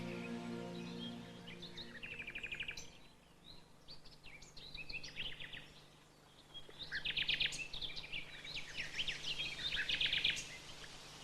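Nightingale singing from a dense thicket near an old oak, with bursts of rapid trills and whistles separated by short pauses, fairly faint and distant over a low background hum.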